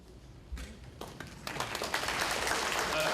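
Town meeting audience breaking into applause that starts with a few scattered claps and swells into steady, dense clapping filling the hall.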